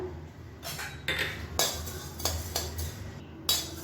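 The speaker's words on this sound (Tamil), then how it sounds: "சோம்பு நல்லா வறுபட்டுருச்சு." Fennel seeds dry roasting in a pan are stirred and tossed, producing several bursts of dry rattling and scraping clinks separated by short pauses, close and clear, with no speech.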